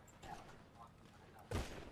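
Rapid gunfire from a shooting video game, a burst of close, loud shots near the end after quieter distant pops, with players talking over the match.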